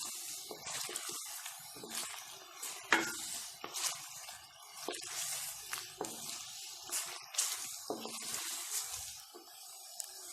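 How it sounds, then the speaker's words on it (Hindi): Chicken and spices being stirred in a pot for korma over a medium flame, with repeated scraping spoon strokes and wet squelching over a soft sizzle, fairly quiet and uneven in rhythm. "अगेन आप इसे अच्छे से मिक्स कीजिए ताकि तमाम तरह मसाले और गोश्त आपस में अच्छे से मिक्स हो जाए।"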